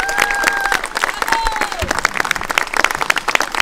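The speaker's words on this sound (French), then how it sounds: "Ils vous quittent avec vos applaudissements" An audience at a Versailles night show applauds departing performers with loud, dense clapping and some cheering, while a voice speaks over it and brief tonal sounds drift through.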